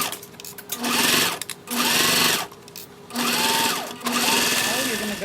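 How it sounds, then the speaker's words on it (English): A sewing machine stitches a fabric seam for a bag, running in four steady whirring bursts separated by short pauses, loud and close. "we're gonna sew that down at 1/4 of an inch"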